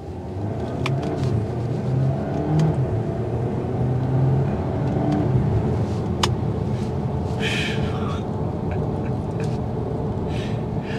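A 2023 VW Arteon SEL R-Line 4Motion pulls away under acceleration, its engine a steady, loud drone and road rumble heard from inside the cabin, with no voices.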